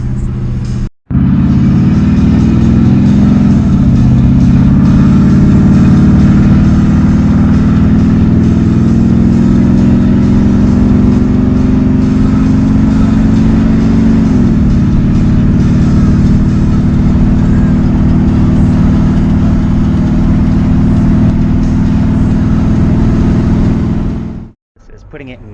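A Ford Jubilee tractor engine runs steadily while pulling a trailer, a loud, continuous mid-pitched rumble that holds nearly unbroken for the whole stretch, cutting out briefly at the start and end.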